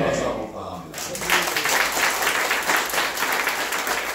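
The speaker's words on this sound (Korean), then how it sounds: "박수 한번 부탁합니다." A crowd of attendees at a Korean gathering breaks into steady, dense applause after a brief quieter start, the clapping filling the space loudly and evenly for several seconds.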